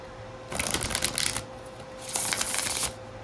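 Two quick bursts of riffling as a slippery, glossy oracle card deck is shuffled close up, separated by a short pause over a quiet background hum.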